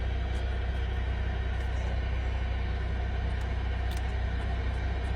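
A Kia car's engine idles just after starting, a faint, low, even rumble that holds steady without revving.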